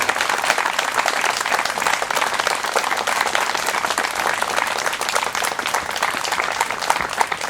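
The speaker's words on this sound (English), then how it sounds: "I think we need to give them a special round of applause" Sustained applause from a ceremony crowd at a Memorial Day observance in Hyde Park, New York, honoring Korean War veterans; dense, steady clapping at even loudness fills the whole stretch with no speech over it.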